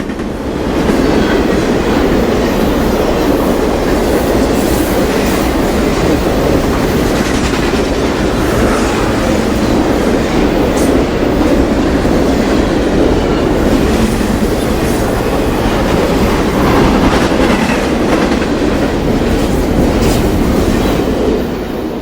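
Norfolk Southern freight train 24M, running Chicago to Baltimore through Ohio, rolls steadily past close by: a continuous loud rumble of railcars with rhythmic clickety-clack of wheels over rail joints throughout, no voices.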